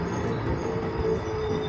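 A passenger train running at night toward Tuticorin gives a steady, loud rumble of wheels and carriages, with a low drone and faint squeal throughout.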